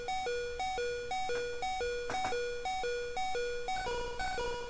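The low HP warning from Pokémon Yellow plays at an odd pitch as a looping two-tone chiptune beep. Its rhythm is steady and bright, steps upward near the end and carries no talk.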